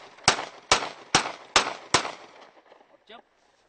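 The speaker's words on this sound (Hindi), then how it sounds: "आप सेमी ऑटोमेटिक मोड में इसको अपने टारगेट पे फायर कर सकते हैं।" Five sharp, loud gunshots from a semi-automatic pistol at an outdoor firing range, fired in a steady, evenly spaced sequence, each with a short ringing decay, followed by a faint metallic click.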